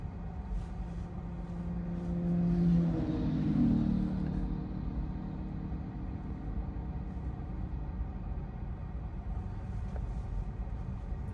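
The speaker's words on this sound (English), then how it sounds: "So yeah, it's a bumper to bumper traffic." Heavy Manhattan traffic crawls bumper to bumper, heard from inside a Tesla as a low, steady road rumble with a passing vehicle swelling and fading early on.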